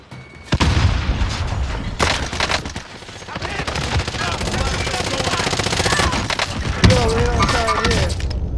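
A grenade thrown in a first-person shooter game explodes with a heavy boom among bursts of close-range gunfire and breaking debris, dense and loud throughout the clip.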